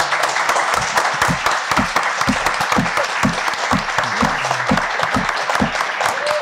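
Sustained applause from a seated audience at a university philosophy colloquium, many hands clapping at a steady, full level throughout with a few sharper individual claps standing out.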